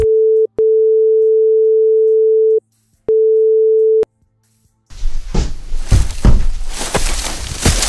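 Telephone tone in the video game Nikopol: a steady single-pitch tone, clear and loud, broken into segments by short gaps, then cut off and followed by busier, noisy game ambience.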